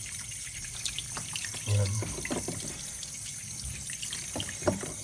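Tap water runs steadily into a sink while duck eggs are washed for salted eggs, a continuous close splashing trickle with a short spoken word over it.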